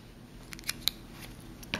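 Scissors trim paper for a cupcake mini card, giving a few sharp, close snips spaced unevenly over a quiet background.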